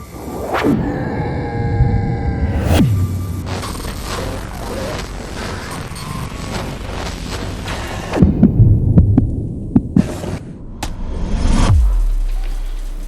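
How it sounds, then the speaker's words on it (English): Heartbeat sound effect pounding loudly and repeatedly under a low throbbing hum, with whooshing swells and booming thumps, meant to evoke a racing, failing heart in someone with stage 4 liver disease. "you feel your heart pounding"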